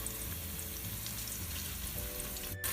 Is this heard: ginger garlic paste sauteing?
yes